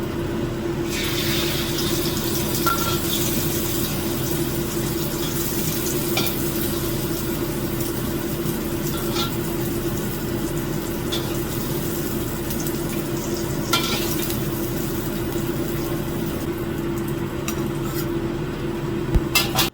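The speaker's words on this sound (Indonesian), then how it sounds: "Goreng ikan sudah, goreng telur sudah." Fish frying in a pan in a home kitchen, giving a steady, close sizzle that continues without a break, with faint utensil scrapes and clinks on top and no talking.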